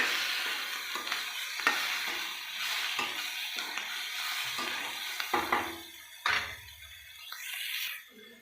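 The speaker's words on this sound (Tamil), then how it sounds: "நல்லா வதக்கிக்கலாம்" Tomatoes with fish curry masala sautéing in a pan, a steady close sizzle broken by repeated scraping stirs of a spoon, with a few louder clatters near the end.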